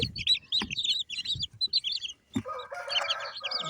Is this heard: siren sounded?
no